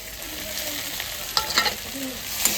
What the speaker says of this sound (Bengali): কচুটা ভালো করে কষায় তারপরে জল দিয়ে দেবো